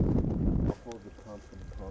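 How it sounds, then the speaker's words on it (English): A loud gust of wind buffets the microphone on a hike at Table Rock, then drops away as a voice speaks in a calmer breeze. "Windy."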